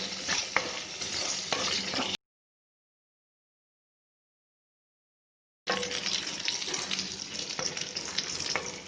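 Onions with garlic sautéing in a pan for drumstick leaves soup, a steady close sizzle with occasional stirring scrapes, broken by a few seconds of total silence before the frying resumes.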